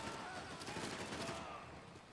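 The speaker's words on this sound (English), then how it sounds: "Just gonna use the SMG. Or the Uzi, I should say." Uzi submachine gun fire in Max Payne 3, a dense, continuous spray of rapid shots that stays loud and close throughout with no clear gaps between rounds.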